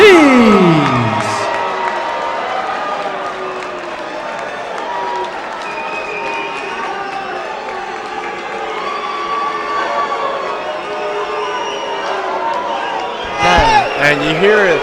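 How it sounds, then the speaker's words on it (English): A fight crowd at a boxing match reacts with mixed cheers and murmurs to a unanimous decision, with a steady roar of voices throughout and a louder swell at the end. "you hear a crowd of some mixed emotions out there"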